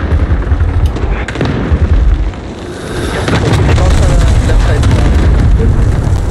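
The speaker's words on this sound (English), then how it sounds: "Allied cluster strike inbound!" Cluster airstrike explosions in a video game, a dense run of booming blasts that rumbles on for several seconds, loud and close, with players talking over it.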